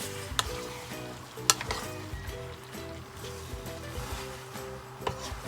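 Octopus oil pasta stirred in a pan, a steady sizzle with scraping and clattering utensil strokes, a few sharp knocks standing out, close and continuous under a faint musical background.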